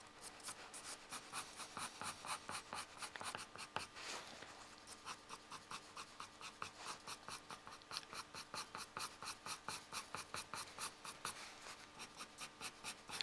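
Pastel pencils scratch across paper in quick, regular back-and-forth hatching strokes, close and faint, with no talk, while someone draws a wildlife picture.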